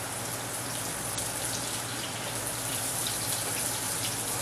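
Hot water that walnuts were just blanched in, poured steadily in a continuous rushing, splashing stream at close range with no talking, alongside a low steady hum.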